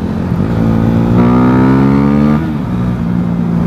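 A motorcycle engine revs up and accelerates nearby on a mountain road, its pitch climbing for about a second before easing back to a steady rumble.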